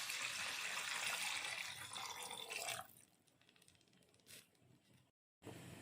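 Water poured into a cooking pan while making semiya upma, a steady rushing splash for just under three seconds, then a few faint drips and a short silence.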